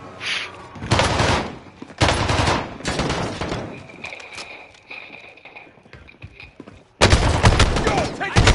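Loud bursts of gunfire in the video game Call of Duty, several heavy volleys separated by quieter stretches, with a final intense burst near the end.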